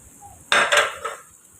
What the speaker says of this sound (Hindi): और इसे मसाले के साथ अच्छी तरह मिक्स कर लेंगे